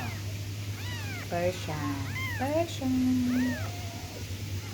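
A Persian cat meows repeatedly in rising and falling cries, close by, with a steady low hum underneath and a little background voice.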